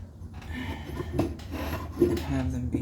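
A sharp carving tool rasps across a wooden bass body as bevels are cut, giving several short scraping strokes close by.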